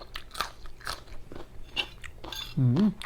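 Raw sweet peppers are bitten and chewed, making crisp crunches in close, irregular bursts, with a brief voice sound near the end.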